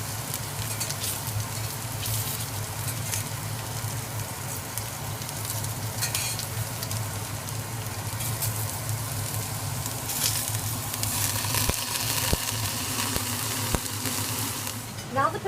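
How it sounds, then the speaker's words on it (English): Potatoes frying in a pan until a brown crust forms, giving a steady, close sizzle that runs throughout with a few brief clinks near the end. "As soon as one side has this beautiful brown crust, you can easily flip them without sticking the pan."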